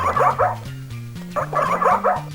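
A cartoonish dog yelp repeats in short, loud, pitched-down bursts, two close cries followed by a pause and another pair, from a SpongeBob plug-and-play TV video game.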